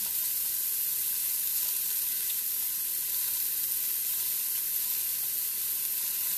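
Diced button mushrooms sizzle steadily in a hot pan as they brown, a dense even crackle with no added seasoning, close and continuous throughout with no talking.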